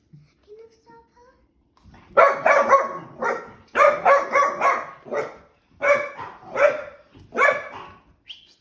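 A small dog yips and barks in quick bursts, several rapid clusters of high, close barks after a few faint sounds.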